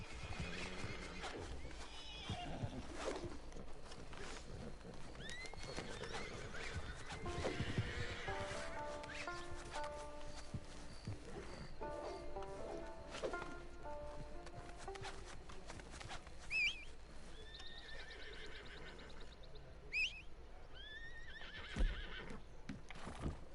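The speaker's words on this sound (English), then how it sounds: "Ven para acá, caballo." In Red Dead Redemption 2, a horse whinnies repeatedly among steady clip-clop hoofbeats, with faint game ambience around it and no talking over the sounds.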